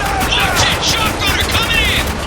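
Rapid bursts of video game gunfire from Spec Ops: The Line crackle continuously, loud and dense, with an energetic voice talking over the shooting.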